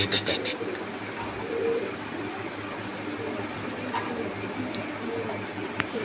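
Pigeons at a pigeon farm coo softly and repeatedly, with a few sharp chirps and clicks over a low background murmur.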